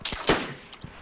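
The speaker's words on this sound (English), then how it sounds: "He's shooting at me." Gunfire in the DayZ video game: two or three sharp shots in quick succession near the start, followed by fainter cracks trailing off, fairly quiet overall with no speech.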